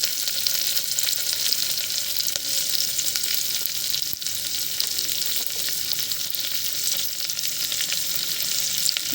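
Green chilies and onion fry in hot oil with mustard seeds and cumin, a steady, dense, close sizzle with crackling bursts that never lets up.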